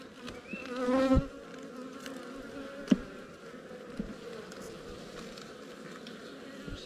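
Honey bees buzz around an open beehive while frames of brood and larvae are inspected, a faint steady drone with a louder swell of buzzing near the start and a few soft knocks.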